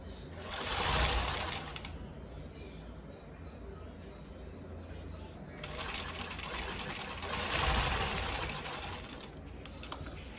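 A sewing machine stitching the last seam of a baby diaper, running in two fast whirring bursts of rapid needle clatter separated by a quieter pause, close to the microphone.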